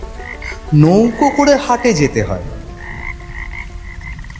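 A chorus of frogs croaking through steady rain, laid in as a background effect for a rural monsoon scene, continuing quietly beneath a narrator's voice and lingering after the speech stops.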